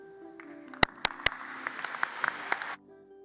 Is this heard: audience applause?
yes